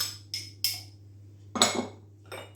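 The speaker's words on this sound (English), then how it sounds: "I'm just going to mix the other bit of filling up." Savoury filling of onion chutney, cheddar and tomato puree is mixed in a bowl, with a few sharp spoon clinks and scrapes against the bowl, close and irregular, over a low steady hum.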